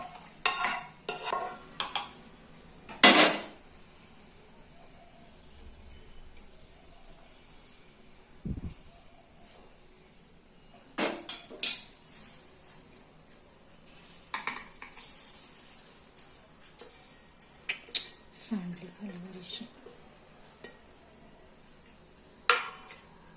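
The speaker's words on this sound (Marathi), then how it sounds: "हे आपण काढून घेऊयात मिक्सरच्या भांड्यात" Cooled flaxseed mixture is scraped and tipped into a mixer jar, giving scattered spoon clinks, scrapes and clatters of metal vessels, with quiet pauses between them.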